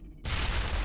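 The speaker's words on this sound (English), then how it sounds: "Nice, detonated well." A grenade explodes in the Mass Effect video game, a sudden loud boom after a brief quiet, then a dense rumbling blast that carries on to the end of the short burst.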